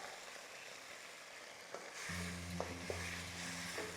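Green peas are stirred into mutton in a hot pan. A steady loud sizzle of frying carries throughout, broken by occasional clinks and scrapes of a utensil against the pan, close up and without talk.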